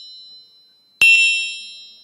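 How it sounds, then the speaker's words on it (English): A small gong struck to mark the market open, one sharp metallic strike with a quick second touch, leaving a bright ringing tone that slowly fades after a near-silent lead-in. "I have a gong."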